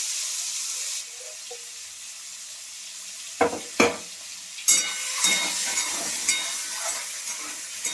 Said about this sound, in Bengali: এখানে ডিম দিয়ে দিলাম। ডিমগুলো ভালো করে ভেজে নেব।